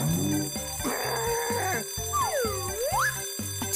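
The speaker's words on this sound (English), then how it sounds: "Who's there? Alarm clock," An alarm clock rings in a cartoon, a loud repeating electronic beeping pattern mixed with music and a swooping tone, going on throughout.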